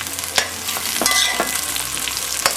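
Orange, green, red and yellow bell peppers frying on high heat in a pan for a seafood enchilado, a close steady sizzle punctuated by spoon clacks and scraping stirs.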